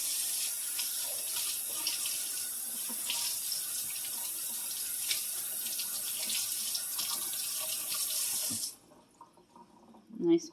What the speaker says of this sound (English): I'm going to rinse my meat